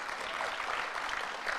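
An audience at a youth entrepreneurship expo applauds after a keynote, a dense steady wash of many hands clapping at even loudness throughout, with no voices on top.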